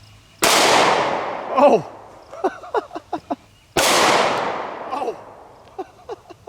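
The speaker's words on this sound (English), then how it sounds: "I have a Springfield 1911, and I'm going to be using some Underwood ammo, 45 ACP plus P, 230 grain jacketed hollow points." Two loud, close pistol shots from a Springfield 1911 firing Underwood 45 ACP +P 230-grain jacketed hollow points at a transparent shield, each followed by a decaying echo, with a person exclaiming between them.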